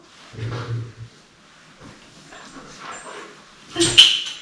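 An indoor dog gives a few soft low whimpers and grumbles, then a louder yelp near the end, with quiet household movement in between.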